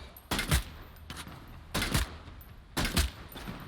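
Sniper gunfire in the video game Bloodhunt, heard as four sharp, fairly distant cracks spaced roughly a second apart, each with a brief rumbling tail.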